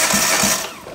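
A 1.4-litre G4HD engine in a 2006 Hyundai Getz cranks on the starter during a compression test. It gives a couple of quick rhythmic chugs over a whirring motor, close and fairly loud, then fades.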